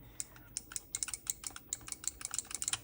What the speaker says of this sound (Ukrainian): спрощену версію аркадного стіка, який ось так клацає